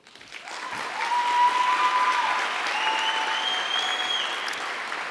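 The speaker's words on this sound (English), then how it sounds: "I want you to turn and applaud your family and friends who have always supported you." A large commencement crowd applauds family and friends, a loud, continuous roar of clapping that builds quickly and holds steady, with a faint tonal hum running through it.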